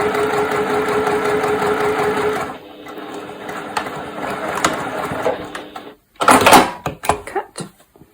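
A sewing machine stitches a wonky log cabin quilt block, its steady close whirring running for over two seconds, then easing into softer intermittent sounds before sharp handling clicks and rustles at the end.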